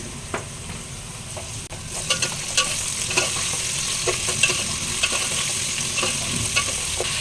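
Mushrooms go into a pan of softened onions for a biryani, frying with a steady close sizzle while a utensil clinks and scrapes now and then, with no talk.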